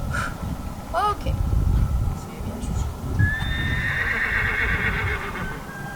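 A young mare being trained neighs with a rising, wavering whinny, then gives a long high squeal while struggling, heard close over steady outdoor rumble and shuffling hooves.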